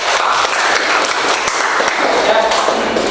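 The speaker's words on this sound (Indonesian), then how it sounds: "Plus tepuk tangan sekali lagi" Classroom students applauding a group's presentation, dense steady clapping filling the whole stretch, loud and close, with voices mixed underneath.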